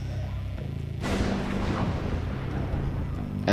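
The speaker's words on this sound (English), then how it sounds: "An explosion sounded nearby." A sudden loud boom of an explosion in audiobook narration, erupting after a low droning background and trailing off into a rumbling, crackling decay.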